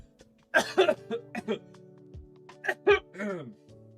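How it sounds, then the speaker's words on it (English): A person coughs several times in quick bursts, close and loud, with throat-clearing sounds mixed in and little else around them. "I was trying so hard to not cough."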